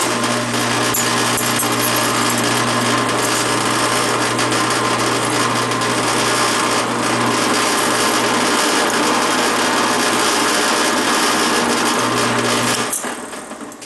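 A screw-machine-length carbide number 53 drill bit boring into a knife blade, a loud, continuous high whine and grinding rasp that holds steady for about thirteen seconds before cutting off abruptly.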